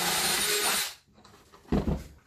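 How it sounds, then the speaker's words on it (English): A power drill whirs loudly through a homemade poultry processing cone for under a second, then cuts out, followed by a quiet pause and a short scraping rub of the material near the end. "I was going to drill some holes that are big enough for a zip tie to go through"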